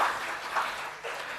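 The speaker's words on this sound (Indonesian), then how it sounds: "Mungkin kita perlu aplaus bersama." Broad, washy applause from an audience at an Indonesian nursing ethics and home care seminar, a continuous hiss of many hands with slight swells, moderately loud and with no speech.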